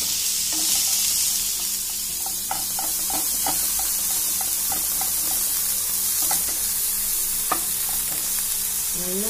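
Pirandai (adamant creeper) sautéing in a pan, a continuous hiss and sizzle with frequent light scraping stirs, close and fairly loud, no voices.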